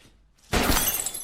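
Glass vial holding a virus shattering in a Jason Statham action film: after a quiet moment comes a sudden loud crash of breaking glass with a bright scattering tail lasting under a second, and no speech.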